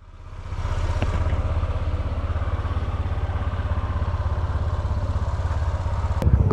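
A group of eight motorcycles idles together before setting off on a group ride to Sagada along the Halsema Highway. Their engines hold a steady, loud, throbbing rumble throughout, with a brief clack near the end.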